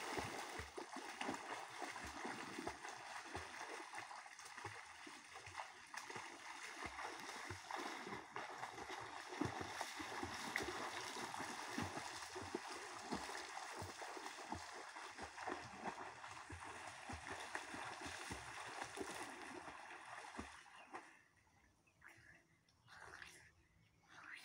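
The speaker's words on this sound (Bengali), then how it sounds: "শুরু করা যাক সাঁতার কাটা।" Someone swimming in a village pond, continuous soft splashing and water churning from strokes, fairly distant and low, fading near the end, with faint voices in the background.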